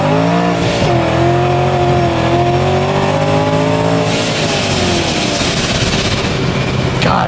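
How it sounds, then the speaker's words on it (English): A supercharged car on slicks accelerates hard in first gear at full boost, with a loud, steady engine roar climbing in pitch and a gear or rev change midway. "We'll do a little first gear pull with this."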